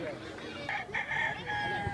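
A rooster crows in a busy outdoor setting in Colima, Mexico, one drawn-out call standing out over background voices and crowd noise.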